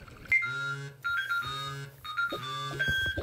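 Repeating electronic alarm tones from Toca Life World sound in three bursts, each a bright steady beeping melody with harmonics, loud and close, with no talking.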